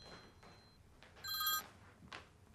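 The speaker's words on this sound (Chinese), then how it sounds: "美国来的电话。" A telephone in a Chinese TV drama rings with a short, faint electronic trill, one brief burst set against quiet room tone.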